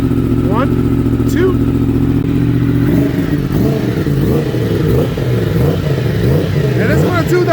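A motorcycle engine idles loud and close while warming up, then catches into revs with clattering mechanical texture. The bikes include an EBR 1190RX, a BMW HP4, a Kawasaki Ninja H2, a Yamaha R1M and an MT-10. A person speaks briefly over the engine.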